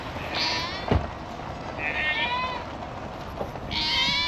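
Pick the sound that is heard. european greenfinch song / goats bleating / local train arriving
goats bleating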